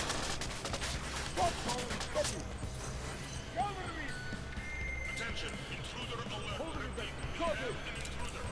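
Automated turret firing in Deus Ex: Mankind Divided, rapid gunfire bursts rattling under game ambience, fairly quiet, with a voice talking over it.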